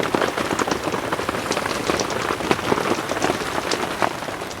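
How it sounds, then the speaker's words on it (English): Steady rain pattering on a tarp over a camper at a Lake Superior beach campground, dense continuous drumming of drops up close, with no talking. "It was raining, steady rain, coming down, coming down, coming down."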